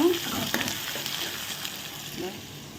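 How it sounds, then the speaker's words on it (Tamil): Onions sizzle and fry in a pan for an anchovy curry, a steady crackling hiss with occasional stirring scrapes, close and moderately loud, with no voices. "வெங்காயம் நல்லா வதங்கிட்டுருக்கு"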